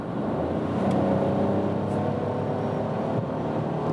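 A Citroen C3 Aircross with a small 3-cylinder engine pulls hard in sport mode from 80 to 100, a steady muffled cabin drone rising gently under full throttle.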